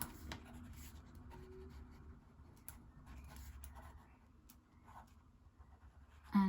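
A pen scratches across paper as a note is written, a faint, close, steady scribbling with small pauses and a louder tap at the end.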